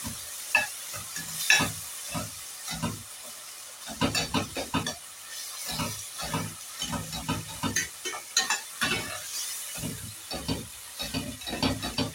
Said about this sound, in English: And then I'm going to stir and mix it with this.